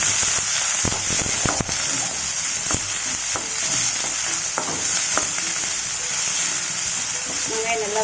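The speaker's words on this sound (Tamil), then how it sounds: "இப்போ நம்ம வெங்காயம் போட்டுக்கலாம்." Onions sizzle and crackle loudly in hot oil with mustard seeds, cumin and fennel in a kadai for a chilli egg curry, while a spoon scrapes and clicks as they are stirred.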